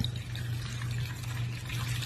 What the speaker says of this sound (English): Then I'm going to pour the water,